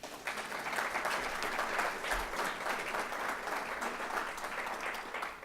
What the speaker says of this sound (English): It's appropriate to clap for them if you want.